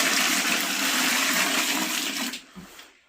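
Bucket-flush toilet at a winter trekking lodge on the way to Everest base camp, flushed with a loud rushing pour of water that cuts off abruptly near the end.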